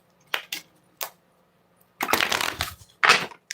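A deck of tarot cards is shuffled by hand: a few quick riffling bursts, then a longer rustling run and a final flurry, close and fairly loud with no talking.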